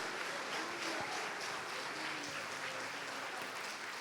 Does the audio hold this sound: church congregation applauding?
yes